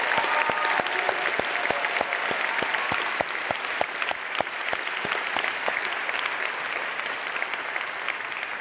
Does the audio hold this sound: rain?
no